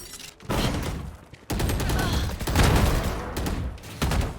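Bursts of gunfire ring out in a tactical shooter video game, several loud rapid volleys close up, broken by short pauses.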